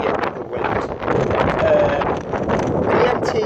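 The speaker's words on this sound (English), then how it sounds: "for God's sake, this wind" Strong wind buffets the microphone outdoors beside a railway line, a loud, continuous roar and rumble with a person talking under it.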